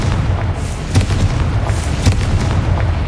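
Repeated booming blasts from the Confringo curse in Hogwarts Legacy, a few heavy explosive thumps about a second apart over a rumbling low background.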